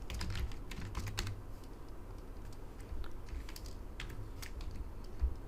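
Rapid typing on a computer keyboard while entering HTML code, a steady stream of soft, close key clicks in irregular bursts with a few heavier thumps, no voice present.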